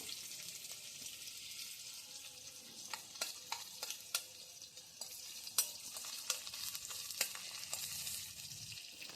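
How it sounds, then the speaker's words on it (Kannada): Ghee melts in a pan for jeera rice with a soft, steady sizzle, punctuated by light intermittent clicks and taps from a spoon against the pan. "ಒಂದು ಸ್ಪೂನು ತುಪ್ಪ ಹಾಕೋತಾ ಇದ್ದೀನಿ"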